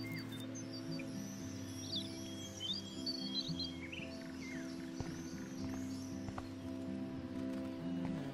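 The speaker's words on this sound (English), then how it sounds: "The birds are flocking around Samuel" Birds chirp and tweet in the game Life Is Strange, with scattered high calls over a steady low ambient drone and music in a quiet outdoor morning scene.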